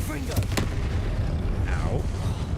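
Confringo fire spells burst in the video game Hogwarts Legacy as a couple of sharp booming blasts over rumbling game sound, with faint whooshing sweeps between them.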